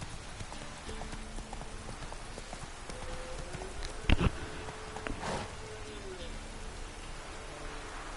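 Horse hooves clip-clop steadily at a moderate distance in the Witcher 3 video game, under a soft wash of rain. One sharper knock stands out partway through.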